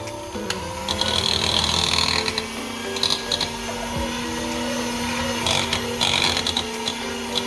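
Mascarpone cream for tiramisu is beaten with an electric mixer, making a loud continuous motor whir with rhythmic scraping surges as the beaters work the bowl, heard close and without talk.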